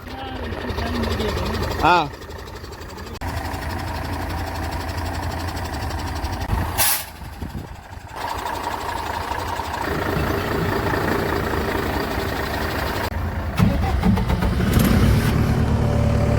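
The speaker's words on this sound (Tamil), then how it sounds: "ஜென்ரேட்டர் வந்துடுச்சு, கனெக்ஷன் பண்ணி பம்ப் ஆன் பண்ணி செக் பண்ணலாம்" A portable generator starts up and runs to power a water pump, giving a loud, steady engine drone that dips briefly a few times before settling into a continuous rumble, with voices talking over it.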